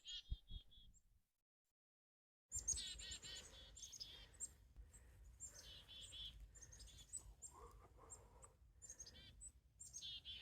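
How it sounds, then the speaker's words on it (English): A small chickadee calls with quick, high, faint chirps and short song phrases outdoors, scattered across a quiet background after a brief silent gap. "Got a little chickadee."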